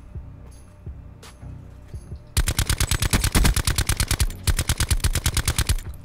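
Gunfire in Call of Duty: Blackout: a few faint, scattered shots, then a loud, fast, rapid-fire machine gun burst that hammers on, briefly breaks, and resumes.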